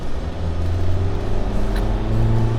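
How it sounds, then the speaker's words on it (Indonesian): Chevrolet Trailblazer engine revving under throttle from idle, a loud close droning rumble with steady low tones rising in pitch as the gas pedal is pressed, filling the whole stretch. "kita injek gas"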